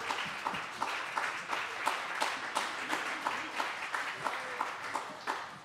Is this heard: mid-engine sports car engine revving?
no